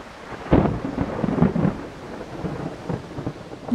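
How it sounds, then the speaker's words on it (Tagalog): Thunder from an approaching storm rumbles in repeated low, heavy bursts with rain-like hiss between them, fairly close and loud, with no voices. "Ayan na yata yung bagyo."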